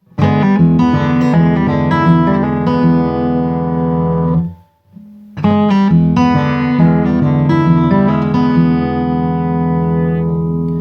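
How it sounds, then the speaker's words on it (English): Overdriven electric guitar plays a loud, sustained riff with crisp strummed attacks made by downstroke flicks of the back of a fingernail, pausing briefly in the middle before continuing, no voices present. "you can do like a little downstroke flick with kind of the back of your fingernail"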